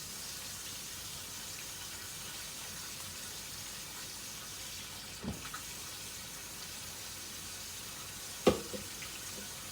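Water runs steadily from a kitchen tap to make broth for a pot roast, a faint, even rushing stream with a couple of soft clinks near the end.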